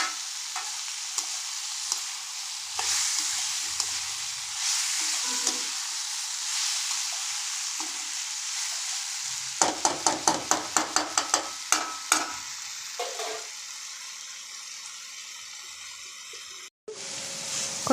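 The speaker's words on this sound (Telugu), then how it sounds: "మీల్ మేకర్స్కి పట్టేలాగా ఒక 2 నిమిషాలు వేయించుకోవాలి" Meal maker soy chunks fry in oil with salt and green chili paste, giving a steady close sizzle. Midway comes a quick run of rhythmic scraping taps from stirring, then a loud thump near the end.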